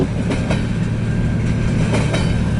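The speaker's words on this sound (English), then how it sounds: "here's the train" A CN intermodal freight train led by locomotive 2200 rolls past nearby with a steady low rumble and a few rhythmic wheel clacks over the rail joints.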